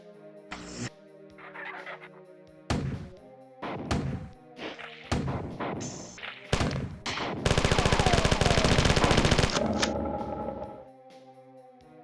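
Grenade blasts and gunfire in the Marathon video game: a run of sharp, loud explosive bursts separated by short gaps, then a sustained rapid burst of automatic fire lasting about two seconds before it drops away.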